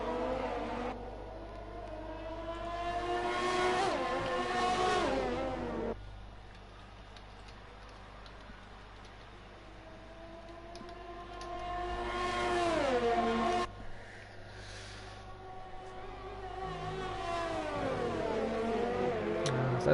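Racing cars, including a Ferrari, on the Singapore circuit in an F1 video game, with high-pitched engines rising and falling through gear changes as cars pass in several waves, moderately loud with steady background drone.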